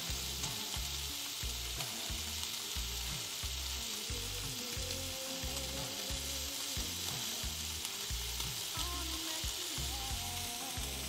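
Lardons fry in a pan with a dense, continuous sizzle and crackle, close and steady throughout, with rhythmic low scraping or stirring underneath and no talking.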